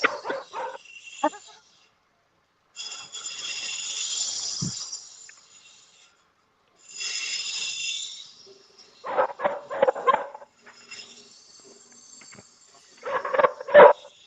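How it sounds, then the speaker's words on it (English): Several dogs bark in short bursts separated by quiet gaps, loud and close, with whines and breathy snorts between the barks. "All right, CRB, taking dogs out"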